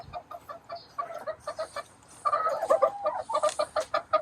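A hen clucks from a corner nesting box in a run of short, close, throaty clucks. They come in uneven bursts and grow louder and denser toward the end.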